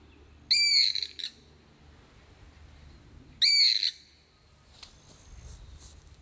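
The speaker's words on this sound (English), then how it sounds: "That bird is what's called a pūkeko, and they are native here in New Zealand." A pūkeko, a bird native to New Zealand, gives two loud, shrill squawking calls a few seconds apart over faint outdoor background noise, with a softer call near the end.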